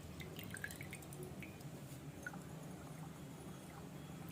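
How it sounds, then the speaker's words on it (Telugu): Half a lemon is squeezed into coriander juice, giving a scattering of faint, close drips over a quiet hiss, with no speech. "ఒక హాఫ్ లెమన్ జ్యూస్ పిండుకుంటున్నామండి."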